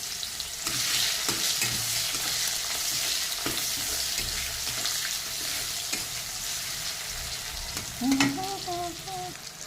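Chopped onion sizzles steadily in hot oil in a pan with dried red chilli, bay leaves and cumin, with a spoon scraping and stirring through it and a brief clatter near the end.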